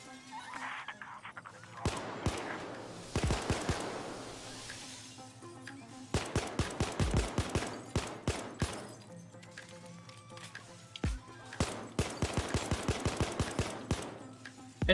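Bursts of automatic gunfire in the heist game Payday 2, several rapid clusters of shots spread across the stretch, loud and close, with a few isolated single shots between volleys.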